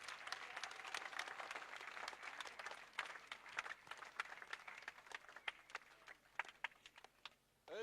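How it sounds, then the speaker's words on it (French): A church congregation at a praise and worship service in Dabou, Côte d'Ivoire, claps steadily, a dense patter of many hands heard from a distance, tapering off near the end. "Clap for yourself."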